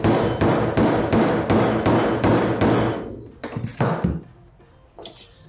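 A piston rod is hammered into place through a small bolt used as a drift, with about seven fast, loud, evenly spaced blows followed by a few scattered, quieter taps and knocks.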